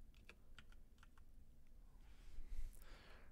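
Someone types on a Redragon computer keyboard, a handful of sharp, close key clicks in an uneven rhythm, then a muffled shuffle and a soft bump toward the end.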